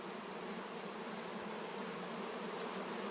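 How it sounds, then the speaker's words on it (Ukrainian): Honeybees swarming at an apiary, a continuous dense buzzing hum from many bees at once, steady and moderately loud with no voices. "На пасці починається гул."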